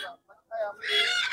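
A goose (raj hans) at a rural village market in Gazipur honks in short, close, nasal calls, a few brief bursts then a longer loud honk, with market noise around.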